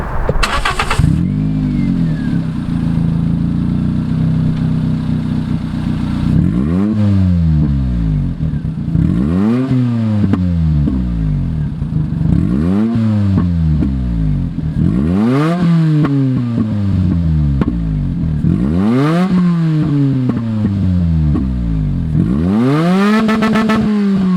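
A 1.0-litre Toyota Yaris fitted with a race exhaust manifold, revved repeatedly from idle: loud, close, rising and falling engine sweeps in a steady rhythm of about six blips, with no talk.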